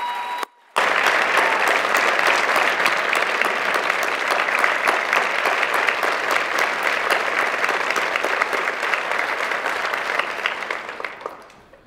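Sustained audience applause at a high school edition of This Is My Brave show in Hershey, PA, a dense steady wash of clapping that starts abruptly after a brief gap, holds for about ten seconds, then tapers off.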